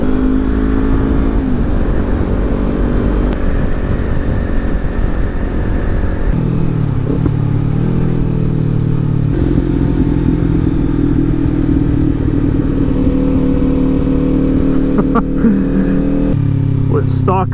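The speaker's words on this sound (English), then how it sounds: "With stock fueling in this Hindle pipe, it is a crackly bike now." A Kawasaki Ninja 400 with a Hindle exhaust pipe on stock fueling, ridden on a hazy, humid day, gives a loud, continuous engine drone that shifts pitch with throttle changes, with a few sharp pops near the end.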